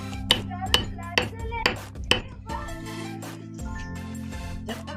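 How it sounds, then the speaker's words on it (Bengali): Cardamom seeds being crushed for tea in a home kitchen: about five sharp, evenly spaced pounding strikes close up, then softer scraping and clinking noises. "এলাচের দানা একটু গুঁড়ো করে দিয়ে দেবো"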